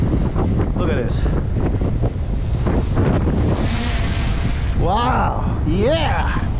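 Extreme wind roars past a DJI Mavic 3 drone flying at full speed in sport mode, a loud, constant, buffeting rush of wind noise as excited voices shout and cheer over it.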